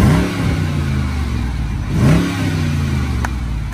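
A Dodge Charger R/T Daytona's V8 engine revs hard, with a loud, steady roar swelling into a sharper rev near the middle and holding a throaty rumble close by.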